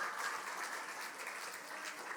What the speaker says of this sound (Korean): 박수 쳐줄 거예요?